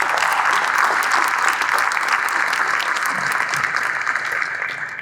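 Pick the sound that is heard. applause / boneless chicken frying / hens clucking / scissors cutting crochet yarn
applause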